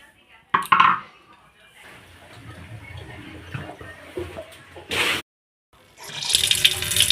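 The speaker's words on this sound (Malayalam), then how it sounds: "നമുക്ക് ഈ ചട്ടി നല്ലതുപോലെ കഴുകി എടുക്കാം" Running water splashing over a clay mud pot being washed and seasoned, bursts of tap flow and scrubbing broken by a brief silent gap, then a loud rush of water at the end.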